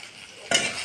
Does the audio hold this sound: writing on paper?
no